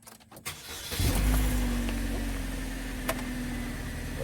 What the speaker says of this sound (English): Now you want to start your car.